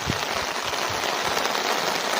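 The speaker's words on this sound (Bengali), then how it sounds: "আমাদের এখানে মনে হয় প্রথম এরকম বৃষ্টি হচ্ছে আজ" Heavy rain pours down near a small Andaman island, a dense, steady hiss of drops striking surfaces with scattered louder patters, close and continuous throughout.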